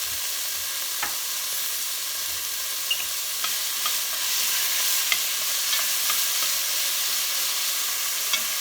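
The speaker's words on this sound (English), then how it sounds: "just allow it to saute for 5 minutes" Vegetables for an Italian-style soup sautéing in a pot with a little kosher salt, a continuous even hiss and crackle with occasional faint ticks and pops, close and steady.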